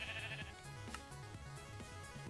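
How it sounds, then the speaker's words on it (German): Sheep in a Minecraft modpack game bleat several times in a row, fairly quiet, over a steady background of game sounds. "Die Schafe lasse ich jetzt draußen erstmal wieder frei, weil die nerven sonst nur"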